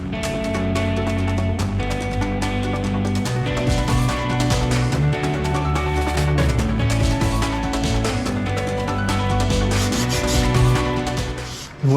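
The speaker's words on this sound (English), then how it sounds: "the last step I take is I use 120 grit paper, sandpaper" Close, continuous scraping of 120 grit sandpaper worked by hand in straight lines toward a brushed finish on an M-1 Cobra build, steady and fairly loud throughout with no voices.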